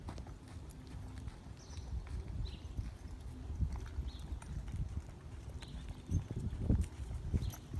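Horse hooves clip-clop in an uneven walking rhythm during training, over steady low background rumble, with a few louder hoof strikes near the end.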